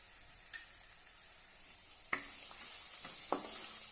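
Chili powder, salt and black masala are sautéed in a pan, giving a soft, hissing sizzle with a few scattered clicks and scrapes from stirring, fairly faint, with no voices.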